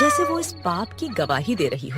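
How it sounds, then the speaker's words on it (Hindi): A black cat gives a couple of short meows as a story sound effect, heard beneath a narrator's voice. "एक काली बिल्ली म्याऊं करके गुजर जाती है"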